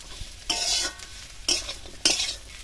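Vegetables with onions, neem flowers and small crabs are tossed in a hot pan, making three loud bursts of hissing sizzle and scraping as the spatula stirs, each separated by quieter pauses. No one talks.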